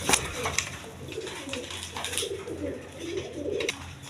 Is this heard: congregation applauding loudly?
no